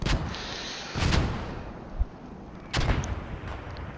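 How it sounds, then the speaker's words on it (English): Mortar fire in Post Scriptum: a few heavy, booming launches and impacts spaced a second or two apart, distant-sounding and resonant, with no talk. "look how accurate this mortar fire is"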